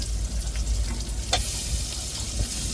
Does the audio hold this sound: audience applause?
no